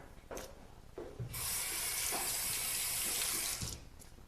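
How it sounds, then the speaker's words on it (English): Water gushes from a tap into a sink during handwashing, a steady close stream for a few seconds, preceded and followed by brief splashes and rubbing. "Always remember to wash your hands, by the way."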